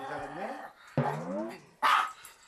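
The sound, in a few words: fearful aggressive dog barking at a stranger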